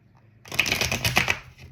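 A deck of cards is shuffled once, a quick burst of rapid riffling clicks lasting about a second, close and crisp after a brief quiet moment.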